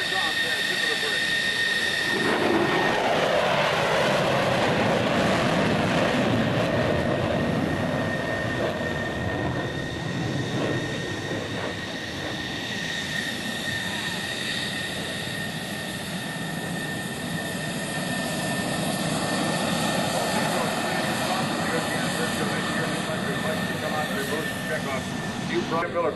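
F-14 Tomcat jets fly past at the 2004 NAS Oceana airshow during a Navy air power demo, a sustained broad roar rising and falling over about half a minute while an announcer talks throughout.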